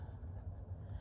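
A Kaweco fountain pen with a double broad nib writes on paper in a brief, soft, close scratch of the nib moving across the page, alone and without talk.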